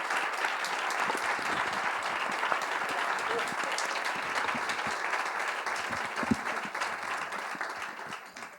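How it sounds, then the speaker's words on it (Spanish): An audience applauds six actors at a gathering of actors and actresses from Granada, a dense, even burst of clapping from many hands that holds steady and fades slightly at the end, close and loud. "Yo pediría un aplauso para los 6."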